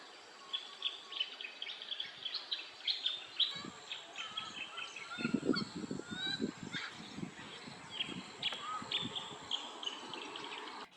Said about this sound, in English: This little bird is a tawny grassbird.